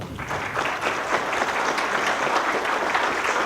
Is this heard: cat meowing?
no